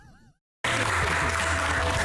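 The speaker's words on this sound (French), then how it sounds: "Il a jamais applaudi aussi fort de sa vie, lui." An audience bursts into loud, dense applause on a reality dating show after a brief musical tone and a moment of silence, the clapping continuing steadily to the end.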